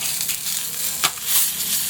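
Tilapia fish frying in cooking oil in a pan, a steady close hiss of sizzling with a brief louder crackle midway, no talking.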